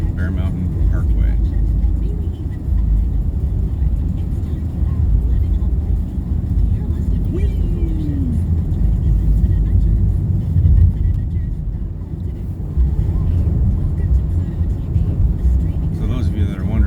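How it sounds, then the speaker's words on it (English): A car climbs the snowy Bear Mountain Parkway from the Leigh Road side at Bear Mountain Resort in Langford, BC, its engine and road rumble steady and loud throughout, with a driver's voice talking over it at times. "driving up Bear Mountain on the Leigh Road side, Bear Mountain Parkway"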